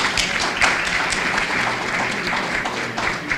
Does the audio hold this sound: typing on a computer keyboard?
no